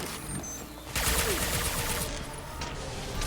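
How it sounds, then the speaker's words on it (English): A high-impact gunshot fires in the video game Mass Effect 2, a loud burst with a sharp onset about a second in, followed by a dense, sustained rumble of combat noise. "Firing a high-impact shot!"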